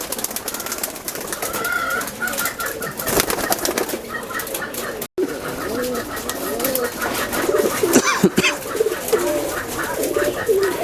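Red-necked Khulna pigeons cooing nearby in repeated soft, throaty phrases, several birds overlapping, with light rustling and a brief flutter partway through.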